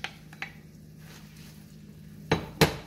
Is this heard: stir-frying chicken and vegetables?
yes